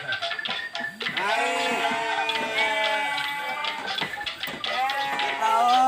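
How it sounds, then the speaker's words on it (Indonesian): Sheep bleat repeatedly and loudly from a village sheep pen, several overlapping calls close by, with some quieter ticking or knocking underneath. "ini kalau khasnya di perkampungan nih ada kandang domba dan juga ada sapinya tuh"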